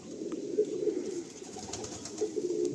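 A Madrasi pigeon coos in low, rolling phrases, close and continuous, with a faint airy background behind it.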